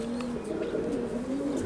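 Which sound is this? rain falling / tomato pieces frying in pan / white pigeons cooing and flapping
white pigeons cooing and flapping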